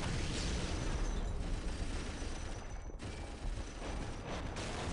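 Dense rumbling explosions and battle noise from a turret fight in the strategy game Dawn of War: Winter Assault, a continuous loud roar without distinct gaps and no talk over it.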